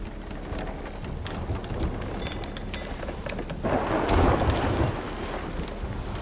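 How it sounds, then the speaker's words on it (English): Stormy weather in the pirate game Sea of Thieves: steady heavy rain pours throughout while a low thunder rumble swells near the end, loud and continuous with no talking. "I just got struck by lightning on their ship."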